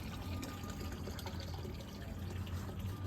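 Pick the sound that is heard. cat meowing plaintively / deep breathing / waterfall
waterfall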